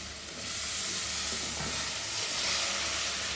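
Rose apple pieces sizzle and fry steadily in a hot pan with oil for pickle, a continuous close crackling hiss with occasional stirring and spattering.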